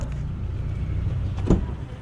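A Volkswagen Saveiro pickup being opened, a low idling hum under a short, sharp clunk of a door or latch about midway, with no talking.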